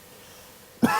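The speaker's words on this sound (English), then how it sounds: "can you cough?" During an abdominal examination, a patient gives one sudden cough near the end of a quiet stretch, a short close burst.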